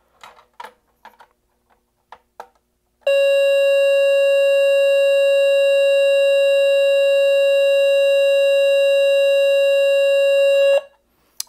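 Simplex 49CMT-WRF multitone horn sounding a steady 520 Hz tone, a loud, pure, unbroken note lasting about eight seconds, preceded by a few faint clicks and knocks and ending abruptly.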